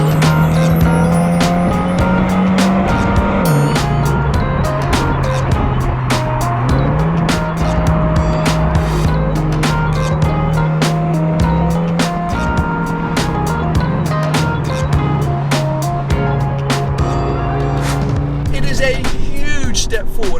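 A Mini Clubman JCW with a 2-litre turbocharged four-cylinder engine making over 300 horsepower drives at steady speed. Its engine drone holds constant, rising and dipping with gear changes, loud and close throughout.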